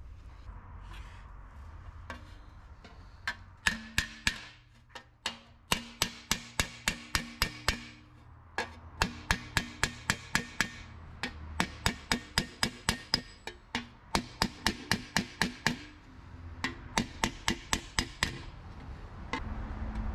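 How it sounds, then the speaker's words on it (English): Hammer and dolly planishing aluminium weld tacks on a car panel, rapid bursts of sharp metallic strikes in repeated clusters, close and ringing over a low background hum. "Now that I've gone ahead and planished these tacks, it is almost good enough for a weld."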